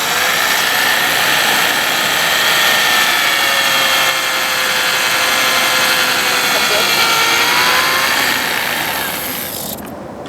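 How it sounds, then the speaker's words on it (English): Power drill pre-drilling holes into a wooden box, a loud steady whirring grind that holds for about nine seconds before tapering off at the end. "We'll just drill it now."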